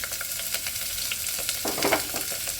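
Onion and capsicum fry on high heat in a pan, a steady close sizzle with scattered crackles and a few stirring scrapes, no voices.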